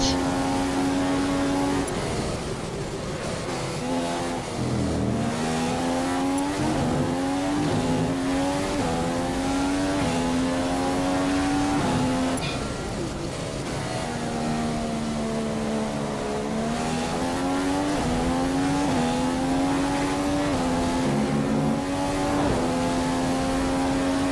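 F1 car on a qualifying lap at the Hungarian circuit in the F1 2015 video game: a loud, continuous high-pitched engine whine that climbs and drops repeatedly through gear changes and corners for the whole stretch.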